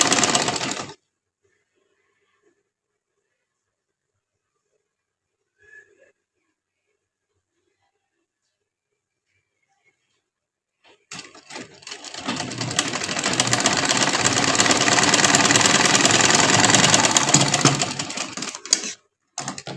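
A sewing machine runs slowly while stitching: a short burst at the start, a long near-silent pause, then a steady, fairly loud whirring run of about seven seconds that stops and briefly restarts.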